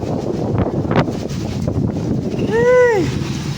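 Strong typhoon wind in Angeles City, Pampanga, gusting and buffeting the microphone with rushing roar, while a voice calls out briefly near the end.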